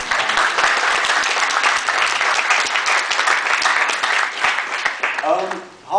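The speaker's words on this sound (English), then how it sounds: "So big round of applause for" Audience applause at an Empower Network team event in the UK, steady dense clapping from a room of people filling the whole stretch before fading at the end, where a voice begins.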